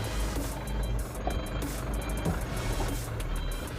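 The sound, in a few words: Canter truck reversing with reversing beeps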